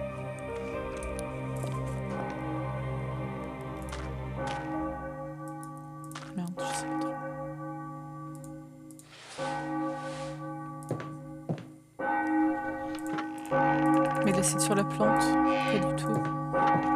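A church bell rings in the Enigmatis hidden-object game, with sustained resonant tones that decay over a steady musical backdrop and a few soft taps and clicks between them.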